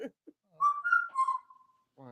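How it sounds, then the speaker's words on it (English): A clear whistled melody of a few sustained, sliding notes, bird-like and fairly close, with brief soft sounds before and a voice starting at the end. "Who whistling? Oh, that's my bird."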